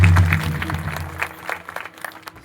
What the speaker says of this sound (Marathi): एकदा टाळ्या वाजवून त्यांचं स्वागत करा.